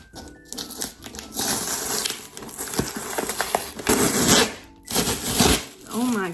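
A mystery thrift box being cut open, with close crinkling, scraping and tearing of cardboard and packing material that runs continuously in uneven bursts, and some speech mixed in.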